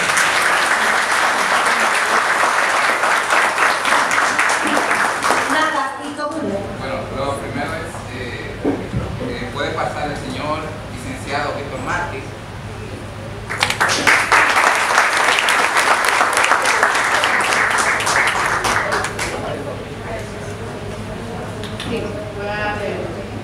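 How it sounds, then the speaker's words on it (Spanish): A crowd at a school taekwondo certificate ceremony bursts into sustained applause, then someone speaks over a quieter stretch before a second strong round of clapping rises and gradually fades under continued talk. "esta vez por vía de un aplauso que ustedes me le van a dar"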